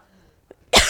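A single loud, close cough bursts out near the end after a brief small throat sound, set in a quiet room during a gouache painting session.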